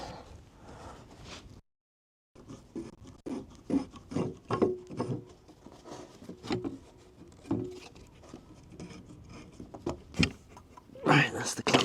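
A clamp is worked off a timber brace on a timber-framed barn, giving irregular scraping, rubbing and knocking bursts of wood and metal, with a brief silence early on and someone talking between them.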